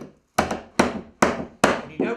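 A hammer drives a nail into pallet wood four times in a steady rhythm, each sharp, close blow ringing out briefly through the wood before the next.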